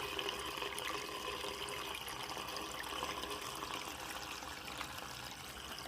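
Water drains steadily from a portable washing machine, a continuous close rushing trickle that runs unbroken and alone throughout.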